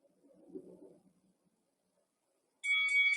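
Interval timer bell in a workout, sounding once as a bright sustained ring at the end after a soft low murmur and a moment of silence.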